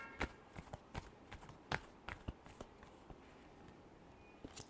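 Tarot cards are shuffled softly up close, producing a scattered series of light snaps and papery flicks over a faint background hiss.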